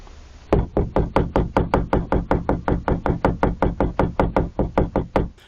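Rapid, steady knocking on the side of a camping van at night: about two dozen loud, close, evenly spaced raps that start abruptly after a moment of quiet and continue without pause.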